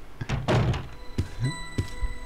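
A door opening in Resident Evil Code Veronica X: a few heavy thunks and creaking mechanical clunks in a short sequence, close and fairly loud.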